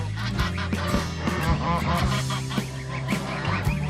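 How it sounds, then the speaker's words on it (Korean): Several geese, including goslings, honk loudly and excitedly close by, with overlapping harsh calls that come in a continuous agitated chorus. "심하게 흥분한 핑크와 토리 때문인지 아기 거위들은 구석으로 도망치고 있다"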